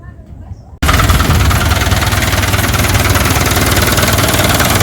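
Isuzu C240 diesel engine that had stalled cranks and catches, then runs loud and close at a rough, steady idle with a rhythmic knock.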